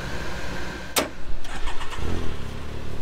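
A truck engine cranks and catches with a sharp burst, then settles into a steady low rumble, close by and without voices.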